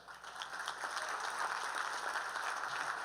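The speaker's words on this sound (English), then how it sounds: "So, let's give ourselves a round of applause." Teachers' lobby day crowd applauding in a hall, a steady, fairly quiet wash of clapping.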